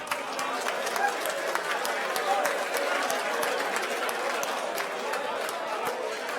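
An audience at a regional sports and business awards ceremony applauds steadily with dense clapping, and crowd chatter sits underneath.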